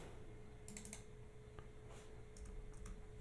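Typing on a computer keyboard: a few quick clusters of soft key clicks in bursts, faint and close over a low background hum.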